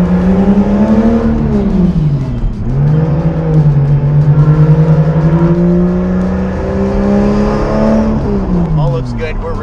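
Turbocharged Toyota Supra with an NA-T build, its engine revving and pulling as the car drives, a loud, steady drone rising and falling in pitch with a brief dip midway, voices talking over it.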